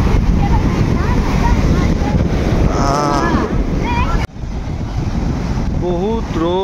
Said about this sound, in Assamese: ইমানে চাউণ্ড ইয়াত বতাহ মাৰি থাকে আৰু সাগৰৰ ঢৌ চাউণ্ড